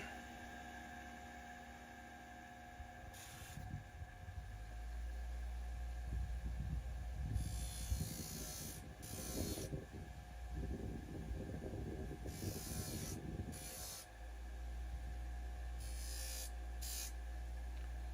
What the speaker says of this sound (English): I just go to my regular deburring wheel